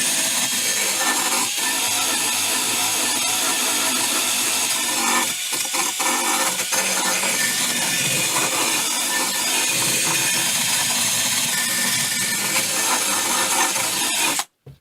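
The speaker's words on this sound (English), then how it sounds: "I'm just holding the wheel real light against it and just letting the wheel go where it wants" A rotary wheel on a power tool grinds and scrubs rust off an old metal garden sign, a loud, continuous abrasive whirr with slight shifts in pressure, running alone until it stops abruptly at the end.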